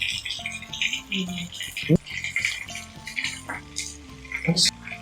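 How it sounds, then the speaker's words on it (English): Chicken ghee roast masala frying in a pan, a soft sizzle under scraping spoon strokes and a sharp knock or two, while a person talks over it. "Now fry the masala really well. Give it a nice stir."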